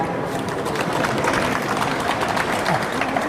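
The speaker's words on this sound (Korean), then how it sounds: "여러분 박수 부탁드리겠습니다" A crowd at a cosmetics and beauty industry expo ceremony claps and applauds, a loud, dense wash of sound that holds steady throughout with crowd murmur mixed in.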